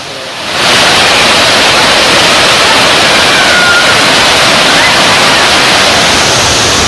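The main falls at Hogenakkal pour with a loud, steady, broadband roar, constant and close, rising sharply in the first half-second and then holding unbroken.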